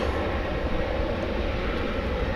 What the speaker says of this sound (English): Do we hear a plane taking off?